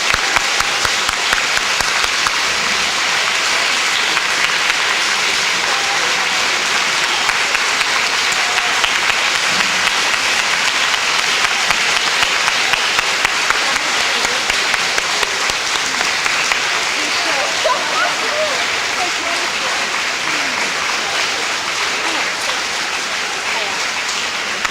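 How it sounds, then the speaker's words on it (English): A graduation audience applauds a teacher at a 5th-grade ceremony, with dense, steady clapping that fills the whole stretch at a loud level and holds without any break. "Let's give her a big round of applause,"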